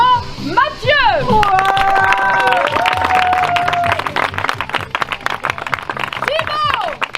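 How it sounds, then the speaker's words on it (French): A live audience applauds and cheers to welcome a performer onto a stage. The dense clapping swells after brief sung or tonal voices and carries on steadily with crowd noise. "je vais vous demander d'accueillir sous vos applaudissements Mathieu."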